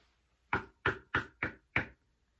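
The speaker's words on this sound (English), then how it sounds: "suddenly, they all heard a knock at the door" Five firm knocks on a wooden door in an even, steady rhythm, close and clear against a quiet background.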